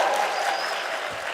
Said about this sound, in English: let's give them another warm applause